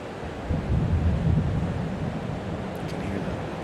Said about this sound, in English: You can hear the rumble of the thunder.